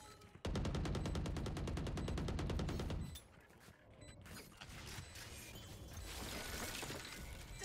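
Rapid gunfire in the Valorant video game, a fast regular burst of shots for a few seconds, then scattered game effects and ambient clatter.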